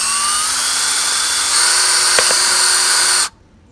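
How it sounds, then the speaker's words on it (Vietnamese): A small high-pitched drill whines loudly as it bores holes into a recycled plastic soft-drink bottle, holding a steady tone, briefly bogging down with a couple of clicks, then cutting off abruptly. "Mình khoan 2 cái lỗ này xuống dưới đây khoảng độ 1 phút"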